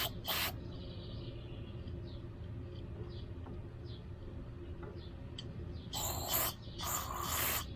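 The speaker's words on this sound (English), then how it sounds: "I should be able to spray carb cleaner through here pretty freely" Carb cleaner sprayed through the carburetor of a riding lawn mower being repaired for not starting or not staying running, two short loud hissing spray bursts near the end after a quiet stretch of faint background rumble.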